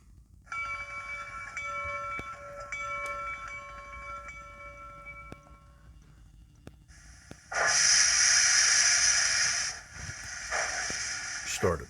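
A DCC sound decoder in a model locomotive plays a clanging bell with steady tonal strikes, then a loud broadband hiss or air release, with faint background noise.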